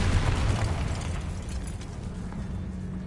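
A Confringo spell blast in the Hogwarts Legacy video game on PS5: a loud, dense explosive burst from the start that rumbles on with sustained crackling and booming for a few seconds, with no talk.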